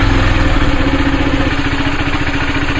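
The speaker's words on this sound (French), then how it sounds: "on va démarrer. Puis on va laisser tourner la moto jusqu'à allumer 2 petites barres sur l'écran" A KTM Duke motorcycle, a 390 or 125, idles steadily after starting, its single-cylinder engine putting out a close, loud, even low rumble with a fast regular pulse and no talk.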